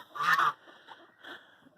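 A farm duck on a homestead gives one loud, nasal honking quack nearby, followed by two softer, shorter quacks.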